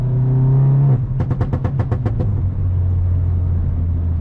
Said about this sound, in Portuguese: Vocês vão ver que eu vou dar uma acelerada e já vai pipocar apenas com um toque na alavanca